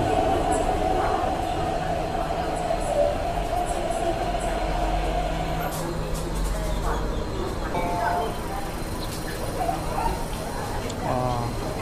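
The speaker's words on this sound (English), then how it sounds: "Train is coming." A train rumbles and rattles steadily close by, with squeals and clatter as it arrives at Tai Po Market station in Hong Kong while people talk over it.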